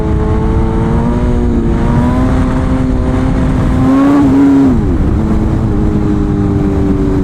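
A BMW S1000RR sport motorcycle engine droning loudly at steady throttle, then surging up in pitch and dropping back as the throttle is blipped and released, close and constant under wind noise.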